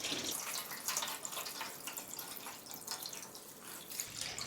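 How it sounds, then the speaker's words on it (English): Tap water runs and splashes into a big salad bowl for washing anthurium roots, a close, uneven trickling patter with small bursts of splashing, no talking. "I'm actually going to fill up this bowl with some water."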